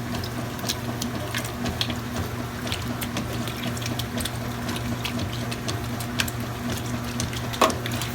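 A washing machine fills with water: quiet, steady running water over a constant low mechanical hum, with a few faint clicks and ticks scattered throughout.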